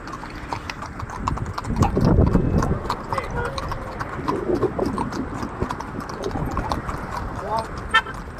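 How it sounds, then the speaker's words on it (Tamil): Horse hooves clip-clop in a steady walking rhythm on a two-day endurance ride at night toward Mahabalipuram, with riders talking over the hoofbeats and an occasional horn in the distance. "முன்னாடி போ நீ சந்தோஷ், குதிரை வரதுக்கு முன்னாடி போ."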